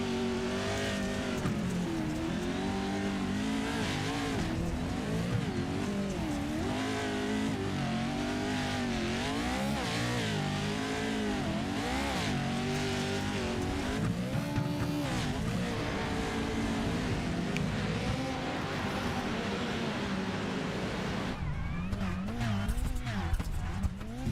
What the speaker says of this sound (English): Go on board here with Josh Edmondson in the 548 machine.